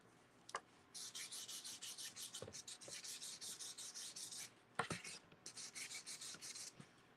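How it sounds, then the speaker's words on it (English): Close, rhythmic sanding: quick back-and-forth rasping strokes in steady bursts, broken by a few short pauses and knocks. "We got to do a little bit of sanding."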